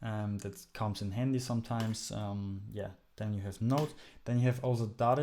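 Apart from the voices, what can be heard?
None of the usual background noises is heard.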